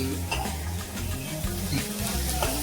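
Onion petals for paneer chilli sautéing in a pan, with a steady close sizzle, brief stirring scrapes and a low background hum.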